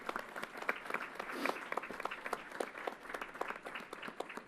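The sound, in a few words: audience applause at Yankee Stadium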